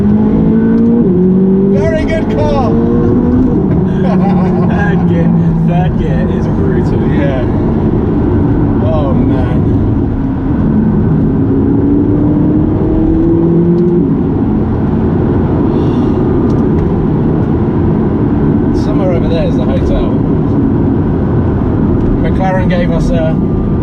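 A McLaren 570GT sports car accelerates hard through its gears, the engine note climbing in rising sweeps then dropping at each shift, loud and close from inside the cabin, with talking over it.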